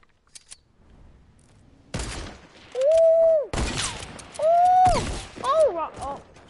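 Shotgun blasts in Fortnite boom out as several sharp, loud reports in an irregular sequence, mixed with pumping and reloading clicks and some high whistling effects.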